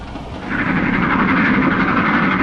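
Passenger train carriages roll along rails in a steady, continuous rumble with a mid-range rattle, heard from inside, close and fairly loud with no one speaking.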